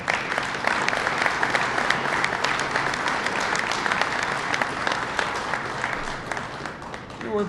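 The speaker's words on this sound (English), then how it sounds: "let's give yourselves a round of applause" Factory workers at a Ford stamping plant in Hamburg applaud, a dense, steady wash of clapping from a large crowd that carries on for several seconds without a break.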